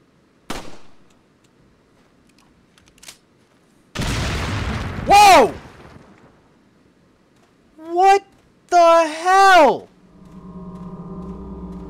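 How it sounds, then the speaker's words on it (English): An enemy blows up in Resident Evil 4, a broad booming burst near mid-clip amid scattered impacts and game noises, followed by shouted voices and a steady hum at the end. "That guy just exploded!"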